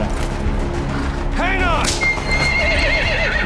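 A horse whinnies in Metal Gear Solid V: The Phantom Pain, a clear, close, wavering neigh rising over game ambience, followed by a fainter second call.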